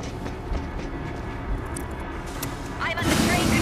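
Train in World War Z video game rumbles and clatters continuously, growing louder and heavier near the end as it starts to move, with mechanical clanks layered in.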